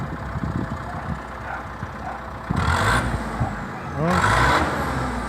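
An MTZ-80 tractor engine rumbles under a voice, then revs in two loud bursts, with a rising whine at the second surge before settling back.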